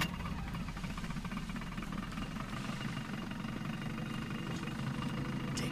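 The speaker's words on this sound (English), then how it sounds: "Start the engine." A vehicle engine runs at a steady, low idle, a faint continuous rumble with no pauses or revving, and no voices over it.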